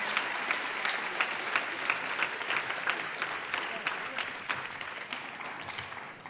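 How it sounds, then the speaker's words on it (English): An audience claps for student performers at a drama school open day, a sustained, even crackle of many hands at moderate distance over several seconds, with a faint voice underneath. "a round of applause for our performers"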